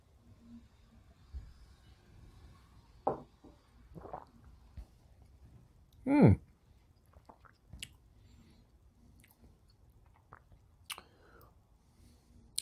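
A person tastes a peated Scotch whisky sample, with soft sips, wet mouth sounds and quiet chewing-like swishes spread sparsely through near silence, one louder slurp in the middle.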